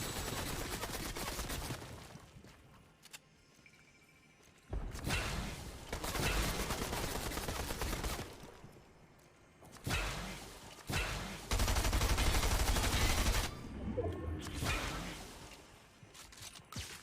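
Fortnite gunfire from a gold shotgun at point-blank range comes in repeated bursts of blasts and game action noise, loud then dipping between volleys.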